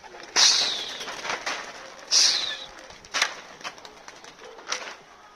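Young pigeons leaving an old loft give several close, soft coos in irregular bursts, with faint flutters and rustling between calls and no talking.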